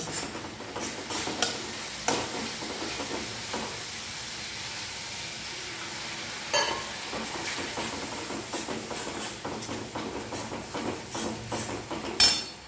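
Chili powder sautéing in hot oil for egg curry gives a steady sizzling hiss, broken by scattered stirring scrapes and taps throughout.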